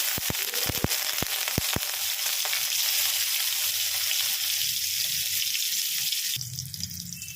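Green chilies drop into hot oil on lowered heat for an ilish jhaal, several sharp spatters at first, then a dense steady sizzle that shifts abruptly near the end.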